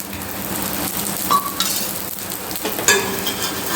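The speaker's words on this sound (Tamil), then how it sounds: "இது எல்லாத்துலேயும் நம்ம கொஞ்சம் கொஞ்சம் எண்ணெயை விட்டுக்கலாம் அடுப்பை வந்து லோ டு மீடியம் ஃப்ளேம்லேயே வச்சுக்கோங்க" Spoonfuls of batter for an Andhra-style tiffin dish frying in a little oil on a low-medium flame: a constant close sizzle with a few brief clinks and scrapes, no talking.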